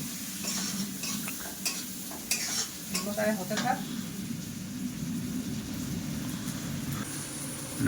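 Steady sizzling of a fish head frying in a pan, with a few clinks and scrapes of utensils and brief voices in the background.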